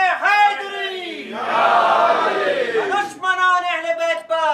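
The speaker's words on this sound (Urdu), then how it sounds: "نعرے" Crowd at a Muharram azadari gathering in Muzaffarnagar shouting religious slogans in unison, a loud sustained collective roar between a speaker's call-and-response lines.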